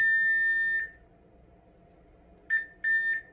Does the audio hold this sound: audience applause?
no